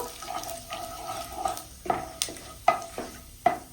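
Cardamom, bay leaf, a dried red chilli and cumin seeds sizzle in hot oil as a base for fish kalia, a soft crackle punctuated by several distinct scraping strokes of a stirring spoon.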